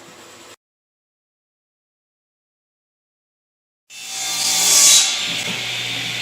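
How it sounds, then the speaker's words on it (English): A saw cuts wooden wall studs during construction of an insulated dog house. The cutting starts abruptly after a near-silent stretch and runs loud and steady to the end, with a brief bit of noise at the very start. "just cutting all the studs to fit up along the wall as we build it"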